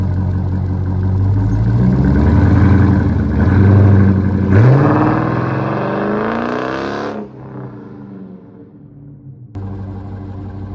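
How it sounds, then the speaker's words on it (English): A 2011-2014 Dodge Charger's exhaust roars as the car pulls away in first gear, engine revving up loudly with rising pitch, then easing off and fading as the car moves away. "I know you guys probably want to hear an exhaust clip."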